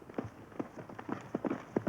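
Light hooves clip-clopping at an uneven trotting pace, several quick hoof strikes on firm ground, moderately close with faint background murmur.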